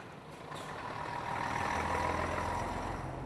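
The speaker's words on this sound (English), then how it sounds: "The damaged vehicle is transported away." A truck engine rumbles steadily and builds slightly as the vehicle hauls a damaged car away from a steel rope roadside barrier, heard alone over a few seconds.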